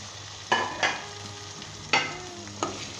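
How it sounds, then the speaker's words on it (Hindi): Mutton pieces fry with spices in a pan: a soft steady sizzle runs underneath while four sharp stirring scrapes sound at uneven intervals, close and fairly quiet, with no talking. "साथ ही हम इसके अंदर गोश्त शामिल कर देंगे।"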